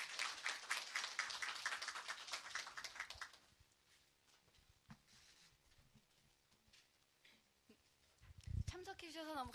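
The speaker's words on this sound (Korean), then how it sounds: "박수 부탁드립니다." Workshop audience applauding for a speaker, a dense burst of many clapping hands that fades after about three seconds into quiet room noise, with a voice speaking near the end.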